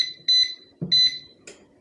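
An air fryer timer beeps to signal its end, giving three sharp, high electronic beeps spaced about half a second apart, fairly close, with a soft clunk between them.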